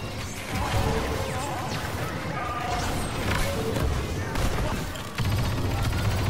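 Blaster and weapon fire in a Star Wars Battlefront 2 match, a dense, continuous barrage of loud shots and crashing impacts packed together without pause over several seconds.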